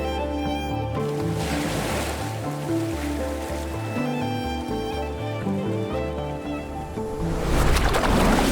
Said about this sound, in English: Freaking waves coming out.